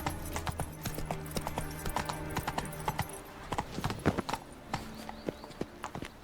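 Hooves of Roach, Geralt's horse in The Witcher 3, clip-clop in a quick trotting rhythm at close range, a steady run of sharp footfalls alongside low ambient game sounds, with no talking.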